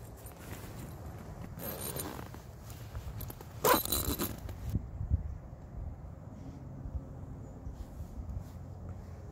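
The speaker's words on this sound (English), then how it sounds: "Go ahead and zip it up the rest of the way." A USMC three-season sleeping bag being zipped up, with a loud rasping zipper burst near the middle of the clip amid softer fabric rustling and handling noise, then quieter shuffling afterward.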